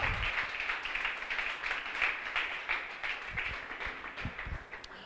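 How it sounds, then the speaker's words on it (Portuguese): Congregation at a church service applauding together, a dense steady patter of many hands clapping throughout, moderately loud and continuous with no pauses. "Vamos aplaudir ao Senhor."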